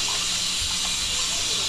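Water runs steadily from a tap during a cat's first bath, a close, constant gushing hiss filling the short moment.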